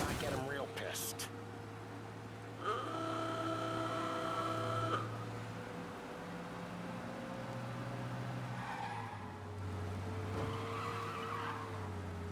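A car in the video game Mafia races hard, its engine droning steadily while a sustained tire screech cuts in for a couple of seconds, then the motor keeps humming on.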